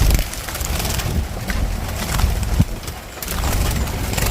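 Steady rushing summer wind buffets the microphone throughout at a farm shed, a loud broadband roar with occasional gusts and a brief thump midway.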